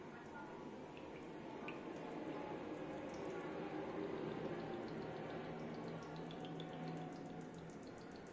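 White refined oil hisses and sizzles as it goes into a hot wok while chilli cauliflower is being made, a steady soft bubbling crackle that stays fairly faint and even throughout with no voices.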